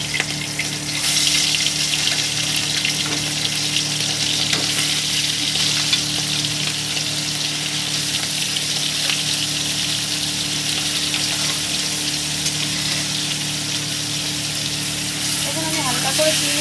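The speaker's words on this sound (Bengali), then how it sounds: "তেলটা গরম হয়ে গেছে, এবার আমি চিংড়ি মাছ কটা ভেজে নেবো হালকা করে।" A loud, dense, continuous sizzle comes from prawns being lightly fried in hot oil for a yogurt (dahi) prawn dish, close and steady throughout with a few small crackles near the end.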